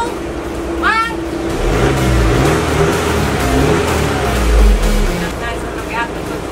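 A Ford Mustang exhaust revs with a deep, rising engine drone that swells and holds for a few seconds before dropping back, loud and close, with brief voices heard at the start and end.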